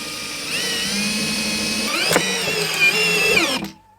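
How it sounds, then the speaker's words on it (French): A power drill whines close and loud for about three seconds, driving a screw into a facade board, then cuts off abruptly, with a brief knock midway. "le but, ça va être de le visser. Avec des vis comme ça."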